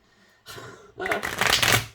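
Tarot cards shuffled on a swivel cheese board in a kitchen: a brief riffle, then a louder, longer burst of papery flutter and clatter, heard close with no talk.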